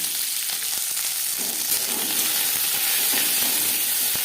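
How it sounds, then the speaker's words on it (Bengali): Onions frying lightly in two spoons of refined oil for a capsicum dish, a steady close sizzle and hiss running throughout with occasional soft stirring scrapes. "সবার প্রথমে পেঁয়াজ ভেজে নেব, হালকা করে ভেজে নেব"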